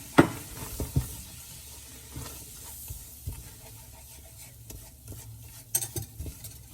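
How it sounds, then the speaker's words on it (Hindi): Flour being mixed into melted butter in a pan over low flame gives soft scraping stirs and occasional spoon clinks against the pan over a faint steady sizzle. "अब इसमें ये साथ ही ये मैदा डाल दूंगी और इसको अच्छी तरह से मिक्स करूंगी।"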